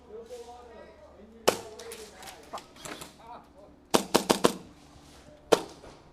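Airsoft gunfire, likely from a bullpup Hi-Capa pistol, rings out as sharp isolated snaps: a single shot, then a quick burst of four, then another lone shot. People talk between and around the shots.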